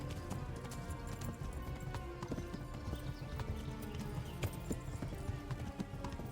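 Horse galloping in the video game Kingdom Come during a combat chase, a rapid steady clip-clop of hooves over a dense, busy game soundscape, moderately loud with no talk.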